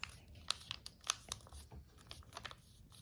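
Paper being creased and folded into a triangle while making an origami bird, giving soft crinkles and sharp crisp snaps at irregular moments, close and fairly quiet.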